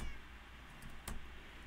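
Minecraft cats give a short game meow, one clear call near the middle of the clip over a steady low background hum.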